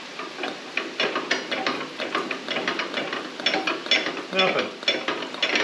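The engine of a 1957 Gard'n Mast'r tractor is turned over with a hand crank, making a rapid run of close clicking and ratcheting knocks, while a voice briefly speaks.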